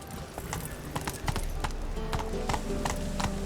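Roach the horse trots in The Witcher 3 video game, its hooves clip-clopping in a steady rhythm under game ambience, with a faint voice in the background.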